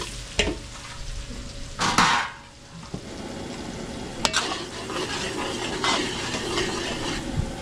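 Garlic and onion sauté in butter and cooking oil in a large catering pan, with loud scraping stirs over a constant sizzle and several sharp metallic knocks from the utensil.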